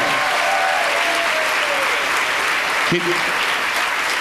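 Dense, steady applause from a cruise ship audience welcoming a couple onto the stage for a newlywed game, loud and continuous throughout, with a brief voice audible partway through.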